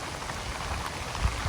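Steady rain falling on a surface, a dense, even hiss with a few closer drops standing out near the end, no voices.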